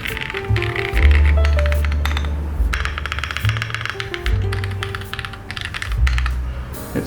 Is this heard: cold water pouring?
no